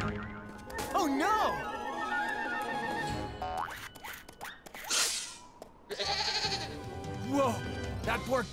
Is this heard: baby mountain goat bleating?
yes